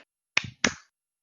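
Two quick, sharp hand claps, close and dry, struck in the rhythm of a theme song.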